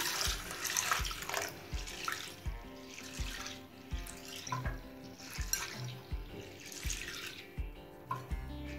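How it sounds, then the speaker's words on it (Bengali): Split peas (matar dal) get rinsed in water, with the water changed several times, in a home kitchen; close splashing and swishing runs alongside rhythmic knocks and pouring, with steady running water throughout. "এবার এই মটর ডালটা বেশ কয়েকবার জল বদলে বদলে ধুয়ে নেব।"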